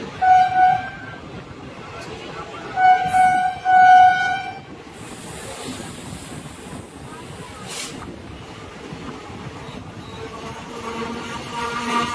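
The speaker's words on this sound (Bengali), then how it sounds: "ট্রেন কিন্তু ঢুকে গেল উলুবেড়িয়াতে" A train pulls into Uluberia station, sounding two loud horn blasts near the start before settling into a softer rolling rumble of wheels and carriages.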